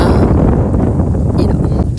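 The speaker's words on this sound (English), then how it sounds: "It's really windy." Strong wind buffets the microphone outdoors with a loud, steady low rumble and roar throughout, no other clear sounds standing out.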